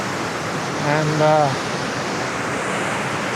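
Steady broadband rush of West Creek Falls waterfall in Rocky Mountain National Park, constant and moderately loud, with a brief voice speaking over it.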